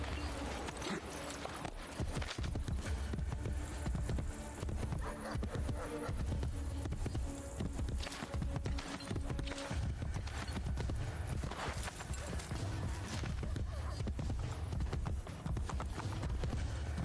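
Steady clip-clop of a horse's hooves in a video game, a continuous trotting rhythm at moderate loudness with faint background ambience and no talk over it.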